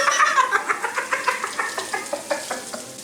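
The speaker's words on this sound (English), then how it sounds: "we're cooking the burger right now" A burger patty fries on a griddle with a soft, steady sizzle, broken by a rhythmic run of scraping strokes close by, fairly quiet overall.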